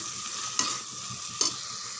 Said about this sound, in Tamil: ஒரு நிமிஷம் நல்லா வதக்கி விடுங்க.